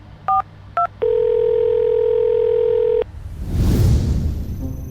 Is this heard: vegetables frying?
no